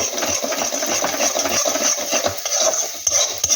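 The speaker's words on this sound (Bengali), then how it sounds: "এটাকে খুব সুন্দর করে নাড়াচাড়া করবো" Fish kachori filling being stirred in a pan, a steady scraping and rubbing texture running continuously at close range under a faint high hiss, with no talk.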